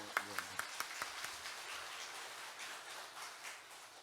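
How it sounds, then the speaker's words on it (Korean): A church congregation claps together, a few distinct claps at first quickly swelling into steady applause that fades slowly. "박수 쳐주세요"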